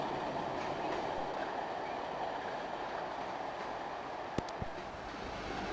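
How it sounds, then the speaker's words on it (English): A British Rail Class 27 diesel locomotive powers away from Edinburgh with a service, giving a steady low rumble with faint rail clatter and a couple of brief sharp clicks or squeals near the end, with no talk. "here we see a 27-hole service powering away from the Scottish capital"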